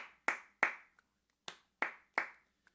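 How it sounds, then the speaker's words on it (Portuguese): Normal hand claps in a body percussion workshop, struck alone by one person: six sharp, dry claps at an uneven pace with a few faint taps between them, close and clear in a quiet room. "a gente tem a palma normal"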